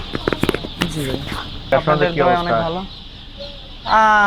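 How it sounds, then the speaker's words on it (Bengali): Tiger-breed chickens cluck in a run of short, close calls and a few longer drawn-out notes, with a louder burst near the end and people talking nearby. "এটা কি মুরগি টাইগার মুরগি"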